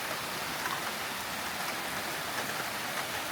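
Heavy rain pours onto a hut in a rice field, a dense, even roaring hiss of drops hitting the surface, close and continuous with no voices.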